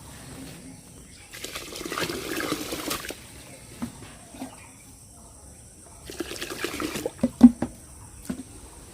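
Water splashes and pours in two separate bursts over paddy seeds being rinsed of salt, with quiet gaps between and a few small knocks and drips near the end.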